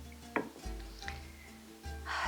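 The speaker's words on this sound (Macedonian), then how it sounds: "И сето ова добро го промешувам. Значи не го полевам, туку убаво го мешам." Yogurt mixture being stirred in a baking pan for baked green beans, with soft scraping, light clinks of utensil on metal and a gentle wet sizzle-like texture, close and fairly quiet.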